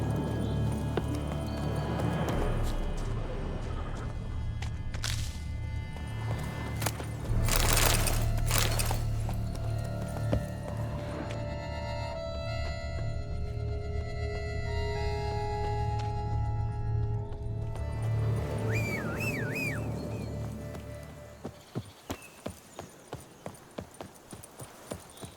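A horse's hooves clip-clop at a steady gallop in The Witcher 3: Wild Hunt, loud and continuous with game ambience beneath, thinning into separate hoof strikes near the end.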